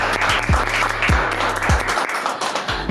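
A crowd claps and cheers steadily throughout, dense applause at moderate volume, with low rhythmic thumps underneath.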